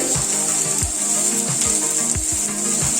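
Beans, capsicum, carrot and garlic sizzle steadily in a hot pan, a close, continuous frying hiss broken by soft stirring knocks at regular intervals.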